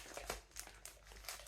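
Paper being scrunched and crumpled by hand for an art project, a series of close crinkling bursts with short pauses between them, no talking.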